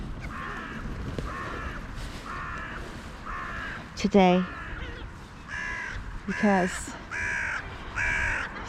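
Crows caw loudly at a feeding spot, harsh calls in short bursts near the end while other birds keep up repeated calls throughout; a person speaks briefly over them.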